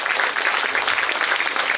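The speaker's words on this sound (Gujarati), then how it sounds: "આ બધી મમ્મીઓ માટે જોરદાર તાળીઓ" An audience at a school event applauds the mothers with brief, steady, dense clapping from a crowd, with no voices over it.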